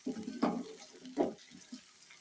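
Okra fries in a pan with little oil and is stirred. Two or three scraping stirs stand out over a faint sizzle, close and fairly quiet, with no one speaking.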